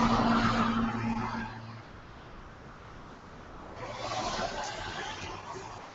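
Live road traffic in Batavia, New York, on a quiet morning after overnight rain: broadband vehicle noise and tire hiss of cars passing on a nearby road, swelling at the start and again toward the end, with low hum underneath.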